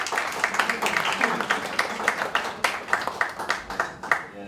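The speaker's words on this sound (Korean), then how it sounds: "박수로 해주세요" A crowd at a small Korean Christian praise concert claps as a worship leader is introduced, close and fairly loud, with the applause settling into distinct rhythmic group claps toward the end.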